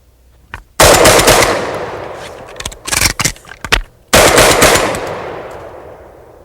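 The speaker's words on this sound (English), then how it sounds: "That's 6 shots with a reload." A combat shotgun fires loud, close blasts with ringing tails; after the opening shots comes a clatter of quick reloading clicks and knocks, then more heavy blasts that fade away.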